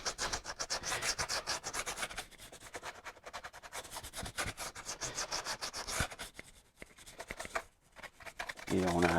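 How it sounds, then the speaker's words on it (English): Hand sanding with 120-grit sandpaper, scuffing a black center console panel before it is wrapped; steady close scratchy rubbing strokes run throughout, easing off briefly in the middle, with a short rise of other sound at the very end. "I'm going to take some 120 sandpaper and just roughen this black up a little bit."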